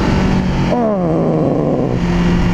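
A Honda CB500R motorcycle accelerating on a road, a loud close engine note that rises and falls with a gear change under strong wind rush.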